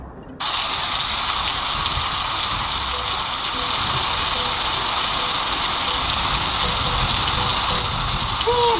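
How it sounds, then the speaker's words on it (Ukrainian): Steady, dense hiss of rain falling continuously, starting abruptly and holding at an even, fairly loud level throughout. "Це дощ."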